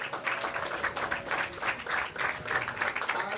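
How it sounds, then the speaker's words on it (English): An audience at a professional women's bowling stepladder finals gives a round of applause, steady crowd clapping in rippling bursts that carries on throughout with a faint voice underneath. "huge round of applause for our 4th place finisher and birthday girl"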